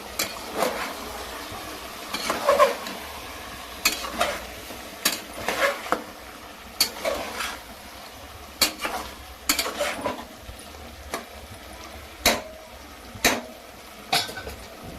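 Boneless mutton curry being stirred in a pot, a utensil scraping and knocking against the metal in repeated sharp clinks over a low background hiss.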